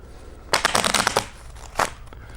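Brand new playing cards are shuffled in a quick riffle: a dense burst of crisp, papery flutters, then a shorter second riffle, close up and clear with no talking.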